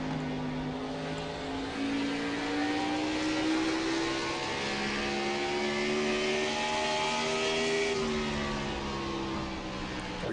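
Stock car engines race in the iRacing sim, a steady near roar with pitch slowly climbing and layered whines of several cars, continuous with no talk.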